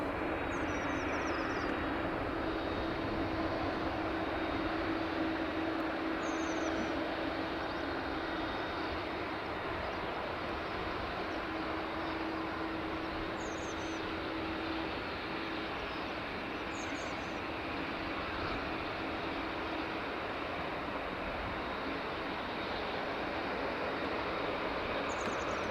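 A Swiss Airbus A321neo from Zurich at Dublin Airport gives a steady, faint jet-engine roar that holds evenly throughout, distant and unbroken, with no talking.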